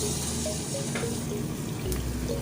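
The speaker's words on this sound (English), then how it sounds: "The oil is ready. As you can see, there are some bubbles coming out of there." Cooking oil heats in a pan for frying plantain mosa, giving a steady close bubbling hiss with faint crackles and pops, with no talking.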